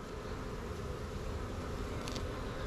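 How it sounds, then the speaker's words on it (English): Dense, steady drone of honeybees packed into a hive brood box, a continuous close buzz filling the whole stretch with no voices. "So these are definitely packed with bees."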